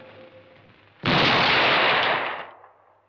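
A single loud cannon blast erupts suddenly and roars on for about a second and a half before trailing off, with no talk, after a quieter murmuring stretch.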